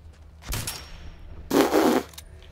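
Two short bursts of gunfire in the video game Fallout 4, a brief volley near the start and a louder, denser one about a second later, with no talking over them.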